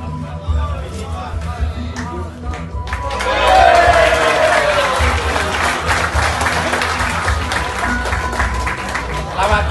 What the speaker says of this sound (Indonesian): beri tepuk tangan meriah kepada Serda Bangun selaku Babinsa Koramil Kapuas